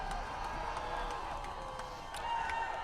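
A hometown high school football crowd at the Fargo Dome cheers and roars in a steady wash of noise, with scattered claps and shouts rising briefly.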